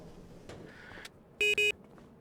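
Two short, loud electronic beeps from a tractor in Farming Simulator 25 come in quick succession over quiet background noise, preceded by faint softer tones.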